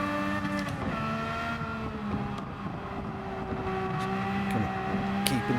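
A Honda RA272 racing car engine screams at high, steady revs during a video game race, droning continuously and loud with small pitch shifts as the car brakes and accelerates.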